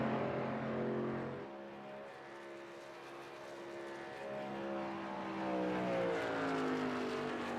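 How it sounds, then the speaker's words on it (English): Racing truck engines in the iRacing game at Atlanta Motor Speedway roar steadily, with several rising and falling engine tones overlapping as the trucks pass through the turns, loud throughout with no talking. "the trucks are drowning out my mic"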